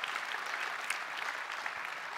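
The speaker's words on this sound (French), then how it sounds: "Oui, on peut applaudir, hein, c'est un message porteur d'espoir." Steady audience applause fills an evening business event in Wallonia, a dense, even patter of many hands clapping continuously without pause.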